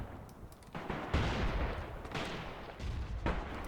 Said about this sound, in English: I did hear mortar fire going off.